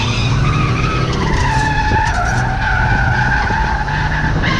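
A Ford Courier pickup drifts after a clutch kick, its tires skidding in a loud continuous squeal over the steady roar of the engine, rising and bending in pitch throughout.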